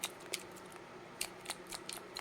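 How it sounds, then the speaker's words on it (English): Crinkling and tearing of plastic packaging as individually boxed and wrapped paint markers are unwrapped, several short sharp rustles and snips close by. "this is going to take me some time to get this unwrapped"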